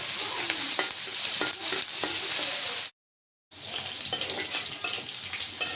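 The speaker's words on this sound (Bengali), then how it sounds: "পেঁয়াজটা ভেজে নেব" Chopped onions and green chillies sizzle in hot oil in a karahi before chicken curry. The hiss is loud, close and steady, with stirring clicks, a brief silent break, then more frying.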